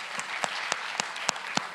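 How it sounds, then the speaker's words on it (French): A crowd at a TGS Springbreak 2022 YouTuber conference in France claps steadily for panel guests, a continuous patter of many hands with several louder individual claps standing out at regular intervals, and no one talking over it. "On peut les applaudir, s'il vous plaît"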